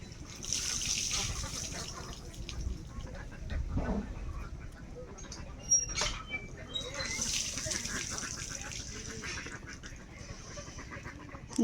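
Geese on a village river give scattered nasal honks and calls, near and far, over an outdoor background of water, with faint voices in the distance.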